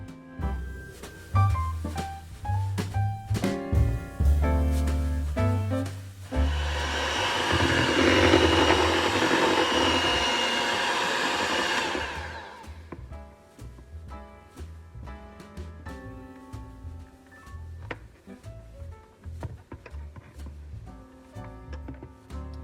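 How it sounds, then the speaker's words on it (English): An electric mixer whirs at medium speed through whipping cream and powdered sugar, a steady buzzing drone of about six seconds set between quieter stretches of background music. "I'm going to beat this on a medium speed until stiff peaks form"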